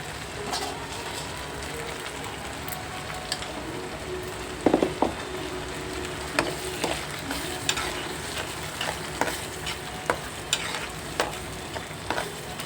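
Curry leaves and green chillies fry in a pan with a continuous crackling sizzle, broken by sharp spatula clinks and scrapes from stirring at irregular intervals.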